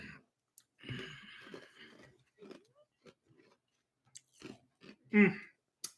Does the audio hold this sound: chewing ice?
yes